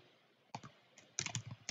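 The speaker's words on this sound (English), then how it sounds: "Then I click on my keyboard and I can type" Quiet computer keyboard typing, with a few isolated key taps followed by a quick cluster of clicks and a final tap, soft and close in a calm room with no talking.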